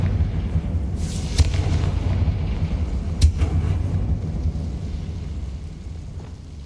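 A Confringo blasting spell goes off in the Hogwarts Legacy game inside a tomb, a loud rumbling boom with a sharp burst that fades into a low sustained roar.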